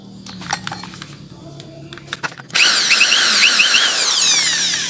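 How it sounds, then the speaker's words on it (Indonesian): Workshop drilling while building a PCP air rifle: scattered knocks and handling clicks give way at the midpoint to a loud, steady power drill whine cutting and tapping a hole into metal, running continuously to the end. "kita lubangi dan bikin drat ya di sini"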